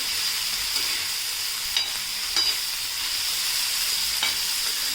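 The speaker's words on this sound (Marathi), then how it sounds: "गवार आपल्याला मस्तपैकी नरम होईपर्यंत तेलामध्ये फ्राय करून घ्यायची आहे" Cluster beans fry in oil on a flat tava, a continuous close sizzle with a few soft stirring scrapes and clicks and no voices.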